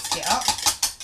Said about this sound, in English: As you can see, the more I whisk, the thicker it gets.